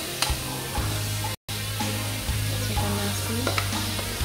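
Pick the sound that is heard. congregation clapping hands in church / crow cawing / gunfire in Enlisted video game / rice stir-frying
rice stir-frying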